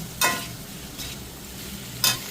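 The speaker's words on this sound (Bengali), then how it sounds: "তো ভালো করে মশলার সাথে আলু পটলটা মাখাতে হবে" Potatoes and pointed gourd being mixed with spices in a frying pan, with a soft steady sizzle and a few sharp scraping stirs, two of them louder, close up and without speech.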